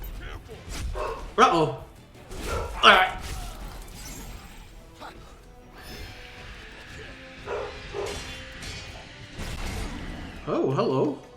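A dog at home in a streamer's room barks a few loud, close times early on, then goes quieter under game sounds, while someone talks briefly.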